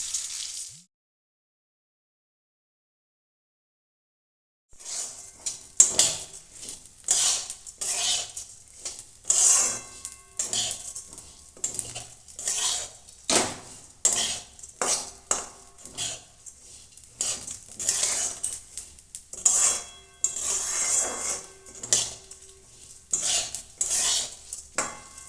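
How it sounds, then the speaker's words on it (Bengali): Rice stirred in ghee in a pot with cumin, a bay leaf, cardamom and cinnamon sticks, scraping and clinking steadily after a short silence, with repeated metallic spoon strokes and a faint sizzle throughout. "ঘিয়েতে আমি চালটা ভালো করে নেড়ে নিয়েছি"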